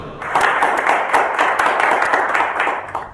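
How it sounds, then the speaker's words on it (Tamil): Audience applause breaks out for a poet at a Tamil gathering, a dense sustained clatter of many hands clapping at close range that swells and holds for several seconds before easing. "உங்கள் கரகோஷத்தை கேட்பது இந்த கவிஞனின் எதிர்பார்ப்பு"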